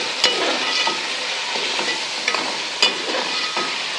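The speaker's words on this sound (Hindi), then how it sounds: "इसको हम थोड़ी देर भूनेंगे पालक सॉफ्ट हो जाएगी" Spinach and softened potatoes sauté in a pan for palak kofte, with a steady sizzling hiss broken by a few sharp clinks and scrapes of a stirring utensil, and no voices.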